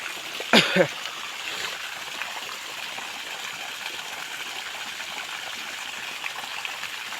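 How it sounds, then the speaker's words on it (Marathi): Irrigation water flows steadily into a sugarcane field with a continuous rushing hiss, broken by a single brief knock near the start. "इकडे पाणी चालू आहे"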